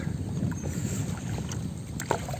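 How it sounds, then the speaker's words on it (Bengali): Oars dip and knock against a wooden rowing boat as it moves on river floodwater, with a soft rushing wind around it and no voices. "নদীর পারে যাইতাছি আমরা নৌকা দিয়া"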